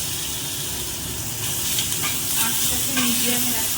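Ground bottle gourd leaf paste with black cumin sizzles steadily in a pan over medium heat, a continuous close hiss with light scraping and stirring sounds rising slightly partway through.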